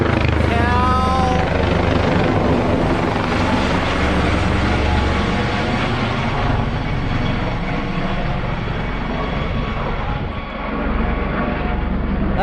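A Coast Guard Seahawk helicopter passes overhead with a loud, continuous rotor thump and engine roar that fills the scene for the whole stretch, easing only slightly toward the end.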